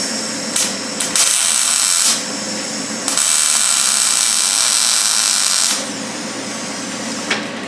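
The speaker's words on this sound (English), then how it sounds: "Now I'm going to do a weld over here on this side." Welding on a scrap metal pencil holder gives loud, steady crackling hiss in several bursts, a few brief pops, then two longer sustained runs of a few seconds each, close up.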